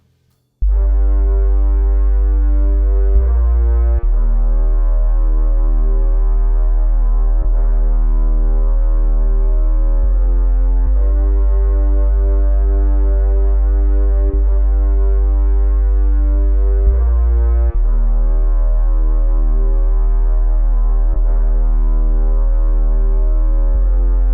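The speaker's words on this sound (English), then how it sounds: "This is how the bass sounds soloed." A deep, steady sine-wave sub bass with a sustained low orchestral string section on top, playing long held notes that change every few seconds.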